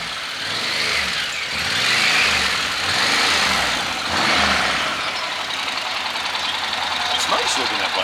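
A motorcycle arriving with its engine running, a steady loud mid-pitched rumble that swells and settles into idling, with people talking over it.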